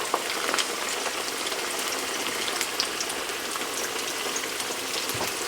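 Dough sizzles in a hot pan for pan-fried bread, a dense, steady crackle of frying oil that runs evenly throughout with no voices.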